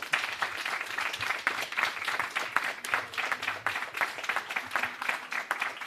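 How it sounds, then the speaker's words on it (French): Audience applause fills a hall during a municipal election debate in La Roche-sur-Foron, a dense, steady clapping from many hands that holds loud and continuous throughout. "Les applaudissements comptent dans le temps de parole de qui?"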